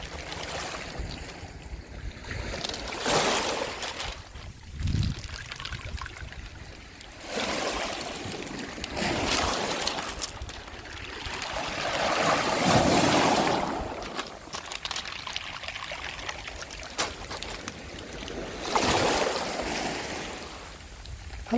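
Waves wash over a rocky, stony beach at Baekyado near Yeosu, soft surges of water and rolling stones rising and falling every few seconds, moderately close with no talk.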